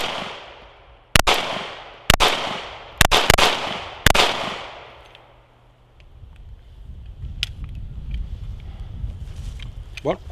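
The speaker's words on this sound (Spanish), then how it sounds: "fallé una pila de disparos ahí" Five sharp, loud shots from a CZ P10 C pistol ring out in an uneven sequence, each with a short echoing decay, followed by quieter rustling and faint handling sounds.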